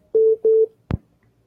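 An incoming phone call on a sports podcast sounds as two short electronic ring tones, followed by a single dull click or thump, close and isolated against silence.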